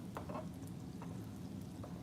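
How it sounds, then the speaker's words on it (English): Ribs fry in a hot skillet on medium heat, a steady close sizzle with a few soft scraping taps as they are moved, and no voices. "as you can see, it's frying up really, really good"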